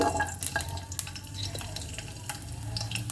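Garlic frying in a tablespoon or two of hot oil gives a steady, close sizzle, with stirring scrapes and a few sharp clinks of a utensil against the pan.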